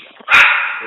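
A single dog bark, loud and close, one sharp yelp-like burst that tails off quickly, standing alone without talk.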